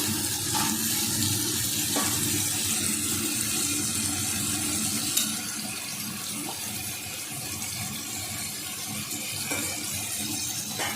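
Water pours steadily and loudly into a cooking pan while making a fish curry with eggplant, a continuous splashing gush with no pauses.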